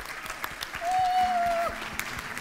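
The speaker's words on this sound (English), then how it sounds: "I think they really deserve a big round of applause for all they've done." Dense patter of audience applause at an angel investor awards ceremony fills the space steadily, with a sustained tone briefly rising over it in the middle.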